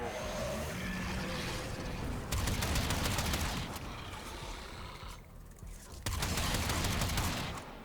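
Twin Akbronco Prime scatterguns blast in Warframe, heavy overlapping shotgun bursts in loud dense volleys with a brief lull before firing resumes.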